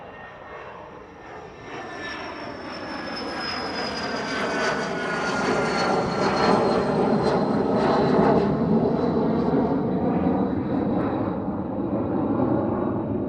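Hawker Beechcraft business jet departing East Midlands Airport in the evening on a steep climb, a loud sustained jet roar swelling and holding steady with a high whine above it, no voices.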